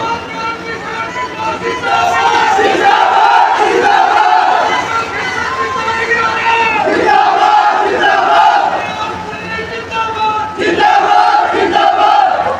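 A large crowd at a political rally in Jind roars and chants with sustained loud energy, the noise swelling and holding throughout with a brief dip near the end.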